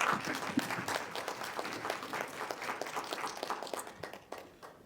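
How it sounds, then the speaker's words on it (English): An audience at a lecture on preventive oncology claps in a steady, dense round of applause for the speaker that holds for several seconds before easing off at the end. "let's give him a big round of applause."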